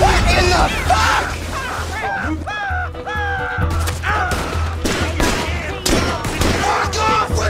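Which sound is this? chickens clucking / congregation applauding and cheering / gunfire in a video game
gunfire in a video game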